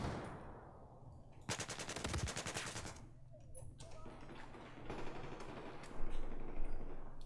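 Automatic weapon fire in the video game Battlefield 4 crackles in a dense burst, followed by scattered single shots and distant gunfire over game ambience.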